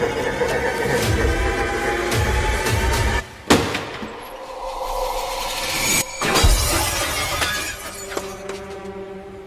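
Glass shattering loudly in a dramatized horror scene as someone smashes into bathroom basins, several crashing bursts with clattering debris spread over the span, close and dominant.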